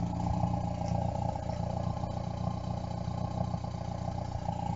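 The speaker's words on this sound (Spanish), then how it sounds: "el coche funciona a la perfección, o sea, no suena súper redondo como podéis ver" A 1.1-litre eight-valve Ford Fiesta MK3 engine runs steadily at idle, a close, low, slightly uneven rumble with a constant pulsing drone and no clear revs.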